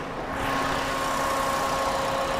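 A Toyota Vios E 2022 with a 1.5 VVTi engine and manual gearbox idles with a steady, even hum and faint whine, close and continuous with no talk.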